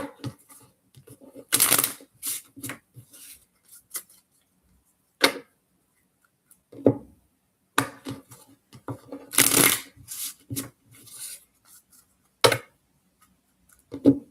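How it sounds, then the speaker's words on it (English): Playing cards are shuffled for a poker game in several quick riffling bursts, with sharp taps and short pauses between them, close and fairly loud. "Few more shuffles."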